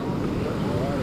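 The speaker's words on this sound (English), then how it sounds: "It is windy" Strong wind on Galveston beach roars steadily into the microphone, a dense, unbroken rush with faint surf underneath.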